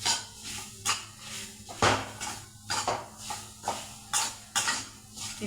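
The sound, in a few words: sautéing peanuts in a pan until brown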